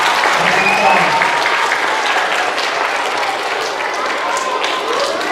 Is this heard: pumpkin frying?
no